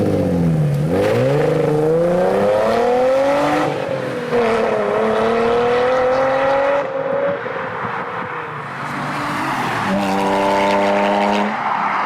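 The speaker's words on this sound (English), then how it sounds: "The tone and volume of this exhaust ended up being exactly what I wanted." A Nissan 350Z fitted with a new aftermarket exhaust revs up several times, its note climbing and falling in loud, close sweeps. A quieter settle follows before a final series of sharp rising blips.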